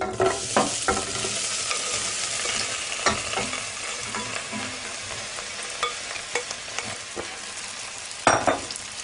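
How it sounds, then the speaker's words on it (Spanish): Bread pieces stirred while frying in oil for garlic soup make a loud, continuous sizzle with recurring spoon scrapes and knocks against the pan, and a sharper clatter near the end. "Le vamos a dar unas vueltecitas para que el pan coja el gusto del aceite."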